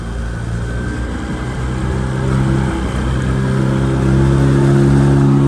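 A 9.9HP Mercury outboard motor pushes a Bass Raider boat at half throttle during break-in, a loud steady drone with a strong low hum that swells slightly toward the end, heard alone without speech.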